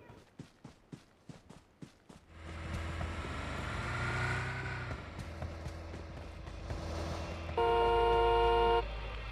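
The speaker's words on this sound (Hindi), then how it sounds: "यहाँ पे ये बंदा हॉर्न पे हॉर्न बजाए जा रहा है" In PUBG Mobile, a run of quick footsteps gives way to an engine rumble, then a car horn blares in one long sustained honk near the end.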